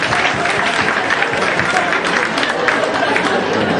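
Comedy club audience in Ottawa clapping in response to a comedian's prompt, a dense, steady wash of applause with scattered voices and cheers throughout.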